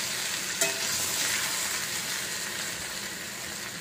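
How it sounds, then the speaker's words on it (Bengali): Vegetables frying in a little oil in a pan, a steady dense sizzle that holds evenly for the whole stretch, with one brief clatter near the start. "একটু অল্প তেল দিয়ে না ভালো করে ভেজে নিচ্ছি একটুখানি সময় নিয়ে।"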